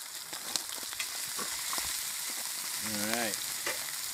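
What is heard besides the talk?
shrimp with garlic hot sauce frying in oil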